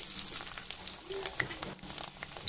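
Onions drop into well-heated mustard oil in a wok and fry with a bright, continuous crackling sizzle, close and moderately loud.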